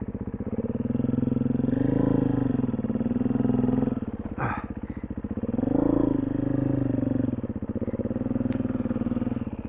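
Steady drone of a 4-stroke dualsport motorcycle idling and riding on a Colorado hillside, engine note rising and falling with a couple of brief revs and some mechanical clatter, close and continuous.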